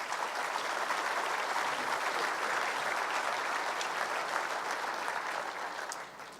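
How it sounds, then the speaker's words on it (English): Sustained applause from a large audience at the 2018 State of the Province address, loud and dense throughout and beginning to fade near the end. "let's give all the sponsors and organizers a round of applause"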